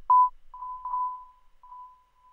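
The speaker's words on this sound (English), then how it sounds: "And the last effect is this bleep sound." A synthetic bleep effect in a $uicideboy$-style hip-hop production, heard as a clean tone repeating three times with echo tails trailing off, alone with no other instruments.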